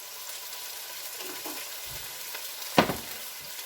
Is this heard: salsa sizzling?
yes